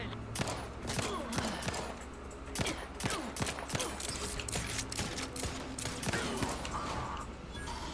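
Rapid bursts of gunfire from The Outer Worlds 2, with dense, repeated sharp shots rattling steadily through the whole stretch at moderate level.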